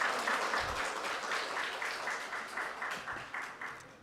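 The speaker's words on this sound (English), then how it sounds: "Can we give a round of applause?" Audience applause at a ceremony celebrating women in the automotive sector, a steady crowd of clapping hands sustained throughout, moderately loud and fairly close, with no talking over it.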